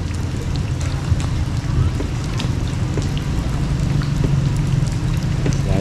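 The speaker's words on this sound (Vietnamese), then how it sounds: "Trời đúng mưa cả nha." Steady rain falls outside on a fishing trip, a dense, even hiss with light drumming on a surface, continuous and fairly loud with some low wind rumble and no talk.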